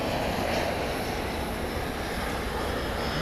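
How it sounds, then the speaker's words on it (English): Airbus A321 jet on a flight to San Francisco, a steady broadband engine roar that stays loud and even throughout, heard alone at night at DFW airport. "Flight 2228 to San Francisco on Airbus A321"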